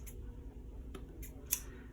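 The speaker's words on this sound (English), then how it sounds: "I can take scissors and a marker and I can fix that right up." Scissors snipping paper while tidying a planner spread, a few faint, brief crisp snips spaced apart against quiet room tone.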